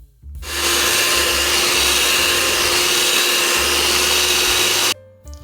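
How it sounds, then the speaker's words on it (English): An electric hand mixer whirs loudly and steadily through cream cheese icing for pumpkin cupcakes, switching on abruptly, running at a constant high buzz for several seconds, then cutting off, with no voices. "go back in with my hand mixer and mix everything"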